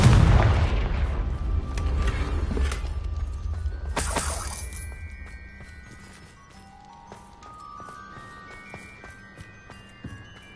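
Confringo fire spell going off in the Hogwarts Legacy video game: a loud explosive burst at the start, a second shattering crack a few seconds in, then a fading rumble with ringing magical chimes trailing away.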